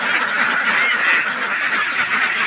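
A flock of ducks laying plenty of eggs, with dense, continuous quacking and honking calls close by, overlapping steadily without a break.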